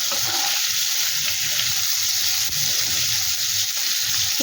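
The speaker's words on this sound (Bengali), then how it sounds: "পটলটা একটু ভাজা হোক" Pointed gourd (potol) fries in hot oil in a pan, giving a loud, continuous crackling sizzle that stays close and steady throughout, with no talking.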